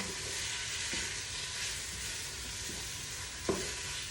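Chicken pieces fry in a thick coconut curry in a pan, a constant loud sizzling hiss broken by periodic scraping knocks as the meat is turned, with one sharper clack near the end.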